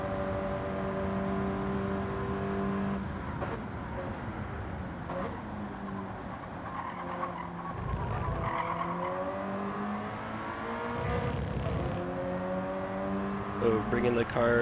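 A race car drives a track at speed, its engine holding a steady loud whine that dips and climbs again through gear changes, with brief tyre scrubs along the way.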